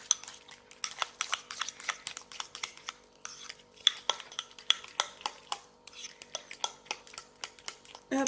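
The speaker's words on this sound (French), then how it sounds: "Donc pareil, je retouille." Avocado toast mixture being stirred in a bowl, a rapid run of clinking spoon-on-dish taps and scrapes, close and fairly crisp, continuing steadily with short pauses.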